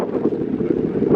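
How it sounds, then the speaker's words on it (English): Strong wind buffets the microphone at an outdoor tractor show, a steady loud broadband rumble with gusting swells that fills the whole moment with no clear voice above it. "It's so windy."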